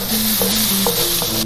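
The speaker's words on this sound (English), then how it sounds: "We're gonna saute those first." Red onion, chili, ginger, garlic and tomato sautéing in a wok, a steady close sizzle with a few scraping stirs, no voices.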